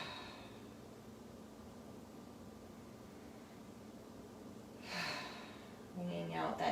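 Deep, slow letting-go breaths taken in a seated yoga twist, heard as a soft airy exhale around the fifth second and another breathy rush at the very end over a quiet, hissy room.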